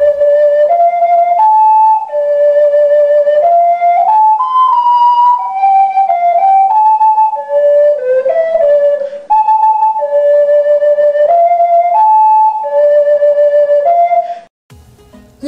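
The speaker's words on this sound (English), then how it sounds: "Ocarina is an ancient vessel flute made of clay or ceramic with 4 to 12 finger holes and a mouthpiece that projected from the body." A clay ocarina vessel flute plays a clear, pure-toned melody of flowing notes, loud and close, alone without voices for about fourteen seconds before stopping.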